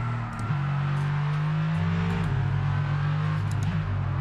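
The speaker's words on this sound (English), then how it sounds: "I'm hearing a lot less tyre noise, which is lovely. And just a lot more engine roar." The F1 22 video game safety car runs with a loud, close engine roar that climbs in pitch as it revs up through the gears. Faint tyre hiss sits underneath, and no one speaks.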